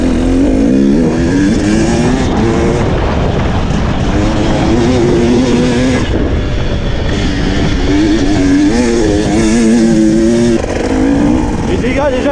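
A GasGas 300 EC two-stroke dirt bike engine roars loud and close throughout, revving and varying in pitch as it rides, with a voice talking over the engine.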